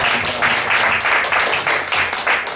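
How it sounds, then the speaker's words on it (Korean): Congregation in a Korean church worship service applauding, a dense, steady wash of many hands clapping at moderate loudness for a couple of seconds with no talk. "우리 다 같이 하나님께 영광을 박수 올리겠습니다."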